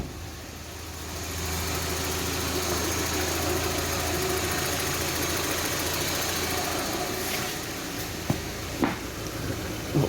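A car engine turns over and settles into a steady low idle with a constant hum and faint knocking, followed by a few sharp knocks and clunks near the end.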